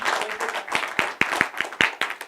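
Scattered hand clapping from a small church gathering welcoming new ministry helpers, a few sharp claps over a thin background of others, uneven and fairly close.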